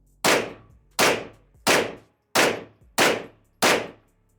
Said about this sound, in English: I can still take my ears out and still shoot this without issue